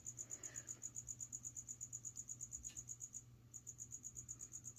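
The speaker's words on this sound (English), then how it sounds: "Oh, there's a stupid cricket." A feeder cricket chirps in a flying gecko enclosure, a fast steady train of bright, close chirps that pauses once briefly, over a low steady hum.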